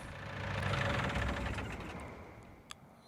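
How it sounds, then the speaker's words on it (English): A tractor engine idles in Farming Simulator 19 with a low, even rumble that swells and then eases over a few seconds, capped by one brief sharp click near the end. "Love the sound of that tractor."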